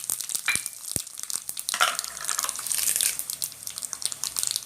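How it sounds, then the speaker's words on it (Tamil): Chana dal, mustard seeds and dried chillies frying in oil, with sharp pops and crackles over a fluctuating sizzle and a few clinks of a utensil, close up. "கடலைப்பருப்பு நல்லா பொரியட்டும். கடுகு போட்டுக்கலாம்."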